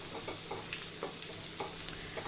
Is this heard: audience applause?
no